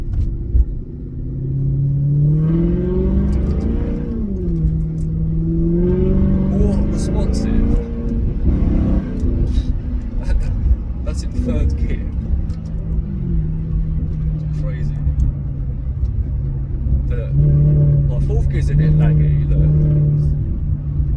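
Maserati GranTurismo S with exhaust valve delete, its engine revving and droning under acceleration with rising and falling pitch, loud and close inside the car, with someone talking over it.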